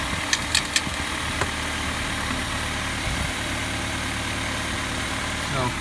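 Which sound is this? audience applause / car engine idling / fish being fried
car engine idling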